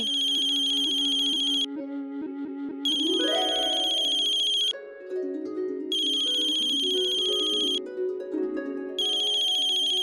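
Electronic phone ringtone ringing in repeated melodic phrases separated by brief pauses, loud and near, alongside a rising musical swell, with no one speaking.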